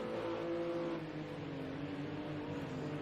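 Race car engine droning steadily in a sim racing game during an overtake for second place at the Nurburgring, a continuous loud whirring note with shifting pitch and no pause.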